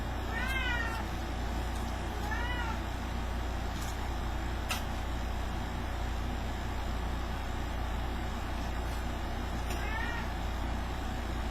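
A stray cat meows several times in short, rising calls spaced across the clip, heard over a steady low rumble of background noise.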